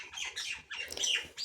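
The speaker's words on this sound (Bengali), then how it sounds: "পাখিগুলো কী যে শুরু করছে কিচিরমিচির কিচিরমিচির" Birds chirp and squawk nearby in a rural garden beside red jute plants, a few quick bursts of shrill calls in close succession.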